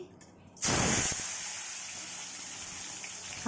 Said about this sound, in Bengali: বাটা মাছটা আমি ছেলেকে দেব, তার জন্য আমি এখন এটা ভেজে নিচ্ছি